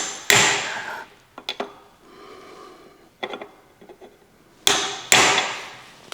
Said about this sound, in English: Get the hammer and a punch